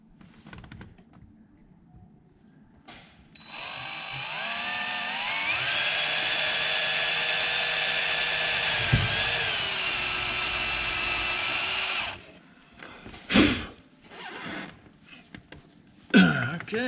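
A power drill drives screws during barn work, whirring loudly for several seconds with rising and falling pitch, then stopping, followed by a few sharp knocks and handling clatter nearby.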